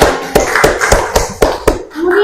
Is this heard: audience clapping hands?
yes